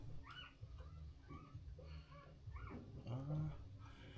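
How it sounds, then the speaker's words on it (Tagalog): A dog whimpers in a few short, thin whines over a low background rumble, fairly faint and close. "Uy, may bagong aso."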